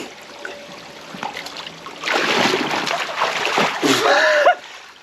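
A swimmer splashes into slimy, sludgy water from a slippery spot in Spain, with faint trickling at first, then a loud burst of churning splashes that surges again before stopping abruptly.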